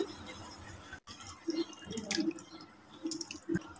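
Milk whey draining through a muslin cloth laid over a bowl while homemade paneer is strained, giving soft intermittent drips and trickles of liquid, close and fairly quiet against a low room background.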